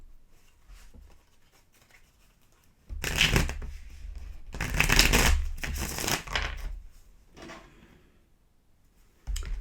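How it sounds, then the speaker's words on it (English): A deck of tarot cards being shuffled by hand gives several bursts of crisp riffling and flicking, close and fairly loud, separated by quieter pauses, with no talking. "I was about to look as I was shuffling"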